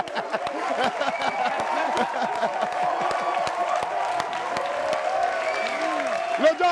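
Audience applause and cheering for a guest rapper on a live show, a busy crowd wash with scattered laughter and voices talking over the clapping.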